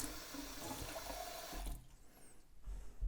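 Warm water runs from a kitchen tap for about a second and a half with a steady broadband hiss, then stops, leaving faint low room noise and a few soft knocks.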